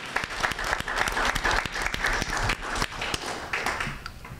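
Audience applause fills a board meeting room, a steady patter of many hands with a few sharp louder claps standing out, lasting several seconds without talk.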